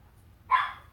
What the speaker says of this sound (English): Sorry if you got annoyed from my dog barking.